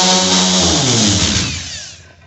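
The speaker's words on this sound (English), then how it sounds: "Got a little bit of it sanded off so far." A power sander whirs loudly and steadily while taking old paint off a 1949 Jeep Willys engine part, then spins down and fades out at the end.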